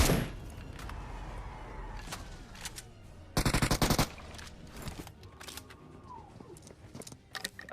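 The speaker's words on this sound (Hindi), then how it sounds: "जाते जाते मैं ऐसी गोली चलाते हुए जाता हूँ" BGMI video game gunfire: bursts of rapid automatic shots, including one sustained volley, mixed with scattered single shots and clanks over a quiet background.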